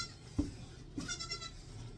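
A goat gives two short, faint bleats about half a second apart during milking on a homestead, set against quiet background noise.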